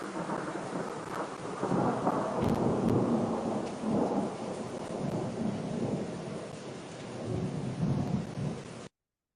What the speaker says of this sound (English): Audio adds rain to the mixture when it interprets thunder